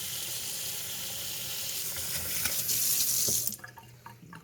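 Tap water runs steadily in a broad hiss over strawberries, then cuts off near the end, leaving a few small drips and splashes.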